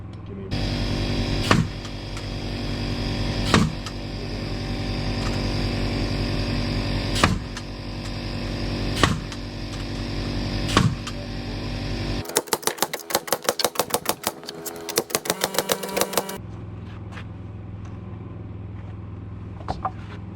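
A nail gun drives nails into window framing in a structural insulated panel house, master bedroom opening: several sharp, well-spaced bangs over a steady mechanical hum, then a dense burst of rapid clicking before the hum carries on alone.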